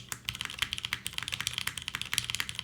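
Fast typing on a mechanical keyboard with a slight metallic ring from the alpha keys, a dense run of crisp clicky keystrokes, close and clear with no voices.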